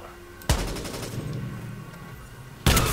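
Bursts of gunfire in the video game Watch Dogs: a loud volley erupts, rattles on with a steady low rumble, then another sharp burst hits at the end.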